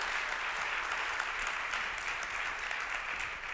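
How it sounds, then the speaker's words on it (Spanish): Sustained applause from a church congregation, dense and steady clapping filling the whole stretch at a moderate distance. "Quiere dar el aplauso, déselo fuerte"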